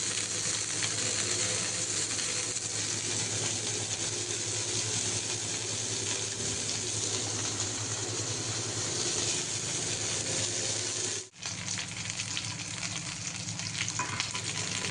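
Prawns crackle and sizzle steadily in hot oil while frying for a prawn 65, a dense continuous hiss with a brief dip near the end, close and loud with no talking.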